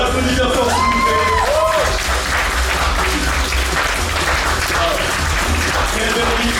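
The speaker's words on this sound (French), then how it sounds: "on l'applaudit bien fort s'il vous plaît" A theatre audience at a French stage performance claps loudly and continuously, with cheers, whoops and shouted voices rising over the dense applause throughout.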